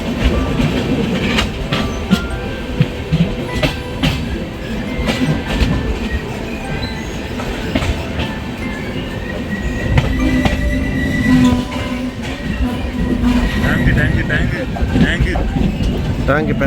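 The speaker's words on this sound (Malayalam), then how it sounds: "ഇന്ത്യൻ മിലിറ്ററിയുടെ ട്രെയിനാണ് കേട്ടോ അത്." An Indian military train rolls through Pokhran railway station in the Rajasthan desert, loud and close, with steady clattering wheels, squealing rails and rhythmic clicks over joints, while people talk nearby.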